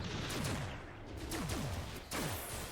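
Gunshots in the video game Cloudbuilt, a few sharp bursts spaced about a second apart with ricocheting whines sweeping down after each, over a steady background wash, no talking.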